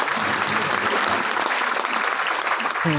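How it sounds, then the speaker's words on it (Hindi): Dense, loud applause fills a business seminar hall, a continuous wash of many hands clapping close up for a few seconds. "ताली बजा लीजिए"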